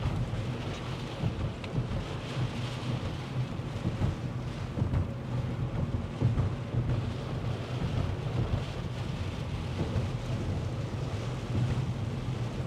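Gusty wind roars during a Midwest storm with hail and tornadoes around, a steady, dense rushing buffet against the microphone that fills the whole stretch without a break.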